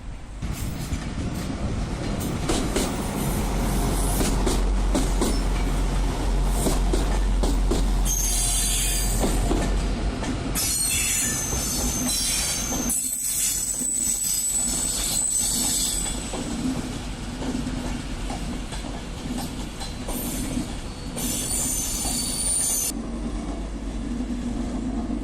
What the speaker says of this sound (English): Another Virgin Pendolino leaves Piccadilly, bound for London Euston.